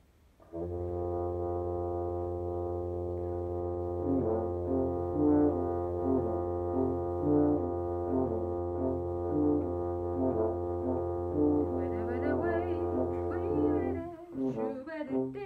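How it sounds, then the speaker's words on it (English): A sustained low drone holds steady while a higher repeating melodic figure cycles over it, steady and fairly soft, ending with a brief noise. "instead of two drones, we have one drone and one ostinato, that repeating figure."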